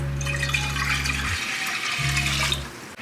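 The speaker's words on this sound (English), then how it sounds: "So now we're going to add in 2 cups of white vinegar." Liquid pours and splashes into a pot as white vinegar is added for spicy red pickles, a steady gushing stream with a low hum that pauses briefly and resumes before ending.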